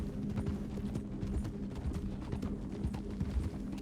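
Hooves clip-clop loudly and continuously from a horse in Red Dead online roleplay, a dense, close rhythm of strikes running the whole time over a low rumble.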